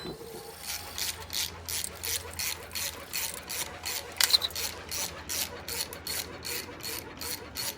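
A ratchet wrench clicks in quick repeated bursts while loosening two nuts on a Harley Davidson generator strap, steady close-up clicking with a low hum beneath.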